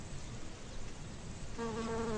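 Bees buzz close by while flying from flower to flower, a steady droning hum that rises into a clearer, louder tonal whine near the end.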